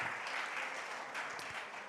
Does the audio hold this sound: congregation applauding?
yes